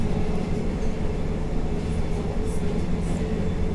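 A Perth to Rockingham train rumbles steadily from on board, a constant low roar with faint rattling and no talking.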